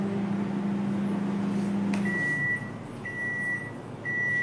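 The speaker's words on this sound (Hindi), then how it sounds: "इसको माइक्रोवेव में डाल दें." Microwave oven hums steadily for about two seconds, then gives three clear, evenly spaced electronic beeps as it finishes heating a cup wrapped in a kitchen towel while cafe-style cold coffee is being prepared.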